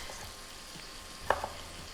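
Bacon frying in a pan, a faint, steady sizzle with a single short clink near the end.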